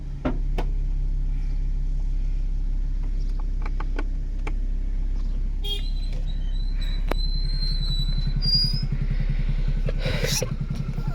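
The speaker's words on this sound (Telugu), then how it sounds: "నేను స్టార్ట్ అయింది బండి స్మూత్గా ఉంది ఇంజన్ ఒరిజినల్" A 2010 Maruti Swift Dzire LXI petrol car idles steadily, with a low, even engine hum throughout and a few faint clicks and squeaks over it.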